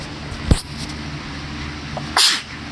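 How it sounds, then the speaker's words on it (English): A single loud, sharp sneeze bursts out close to the microphone near the end, after a soft thump, against a low background hum. "I'm so sorry for sneezing."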